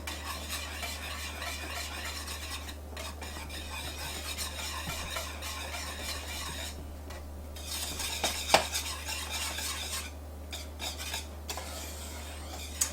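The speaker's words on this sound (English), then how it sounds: "we're going to whisk this until all of that melts" Bittersweet and semi-sweet chocolate being whisked until melted for a chocolate cream pie: a steady scraping stir with occasional light clinks of the whisk against a pot, alone over a low hum.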